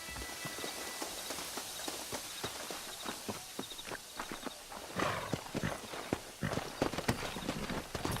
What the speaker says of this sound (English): Come on, horses are over here.